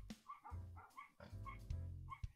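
Several dogs bark and yip in quick repeated bursts indoors, fairly faint and distant, with a few whimpering notes between barks.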